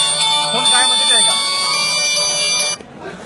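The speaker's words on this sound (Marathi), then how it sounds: "आता या मोबाईलवरती थोड्या वेळात फोन येणार." A mobile phone rings with a steady electronic ringtone, triggered by a water pump controller reporting a phase-fault shutdown. The tone is loud and close, sounds continuously, then stops abruptly near the end.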